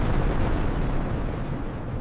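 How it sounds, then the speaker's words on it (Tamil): A loud quarry blasting explosion: a broad, rumbling roar fills the whole clip from the start, sustained and gradually easing off over two seconds, with no voices. "குவாரி வெடிப்புகள் இந்த அமைதியை சிதைக்கிறது."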